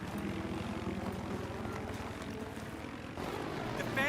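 A helicopter flies in Battlefield 3 on PS3, a steady close rotor and engine drone that runs throughout and swells slightly near the end, with a player talking over it at times.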